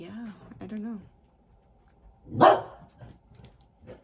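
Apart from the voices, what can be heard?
dog barking and whimpering in the room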